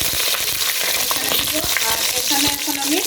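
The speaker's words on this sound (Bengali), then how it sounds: "আর এখানে এখন আমি এই যে 50 গ্রাম বাটার দিব।" Fifty grams of butter sizzles and crackles loudly in a hot pan with cardamom, cloves, shahjeera and bay leaves, a dense continuous frying hiss with small pops and stirring clatter.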